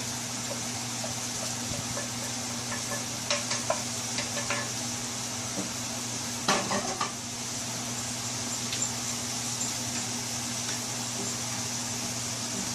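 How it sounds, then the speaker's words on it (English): Mushrooms are stirred back into a simmering, reduced deep-ruby wine sauce, a faint steady bubbling hiss under a low hum, with a few soft scraping clicks of the spoon in the pan. "I'm going to incorporate the mushrooms back in"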